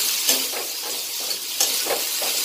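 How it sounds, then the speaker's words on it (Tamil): Garlic and ginger sauté in a hot pan for a mint chutney, giving a steady close sizzle broken by light stirring scrapes. "சேர்த்து நல்லா வதக்குங்க."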